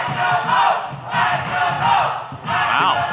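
A wrestling crowd in an arena chants and cheers in rhythmic surges, loud waves of massed voices rising roughly once a second.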